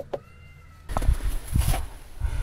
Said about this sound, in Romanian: dacă e primăvara, a început concertul motanilor.